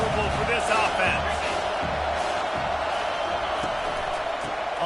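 Steady stadium crowd roar in a College Football 25 game against South Carolina, a dense continuous wash of noise with scattered thumps and a commentator talking over it throughout.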